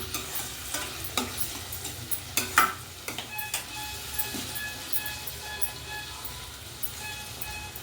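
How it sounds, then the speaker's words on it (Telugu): Tomatoes cook in a pan for a small-fish masala curry, a steady low sizzle broken by repeated clicks and scrapes of a spoon stirring against the pan, close and without speech. "టమాటాలు వేసి ఇంకొక ఫైవ్ మినిట్స్ అయితే మగ్గించుకోవాలి"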